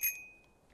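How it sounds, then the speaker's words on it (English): A goose strikes a bicycle bell in a video game, giving a single bright ring that fades away over under a second and stands alone. "hitting the bell on the bike"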